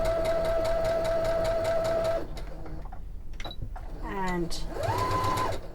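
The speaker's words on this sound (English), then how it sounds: "do a couple of stitches backwards and forwards to finish" A domestic sewing machine stitches a few short runs back and forth to finish a seam on an envelope cushion cover, its steady whirring motor sound broken by brief pauses, with a voice speaking over it.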